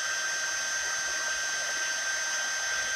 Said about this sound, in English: This is the stamping up heating tool. And it kind of is like a blow dryer, but awesome and great for crafts.